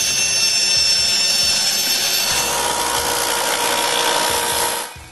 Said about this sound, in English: I cut the catch on the bandsaw, being careful to cut a bit past the line.